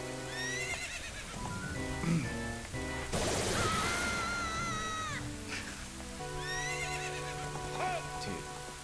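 A horse whinnies repeatedly in The Legend of Zelda: Ocarina of Time, each call a rising and falling shrill neigh over a steady bed of rain-like hiss and game music.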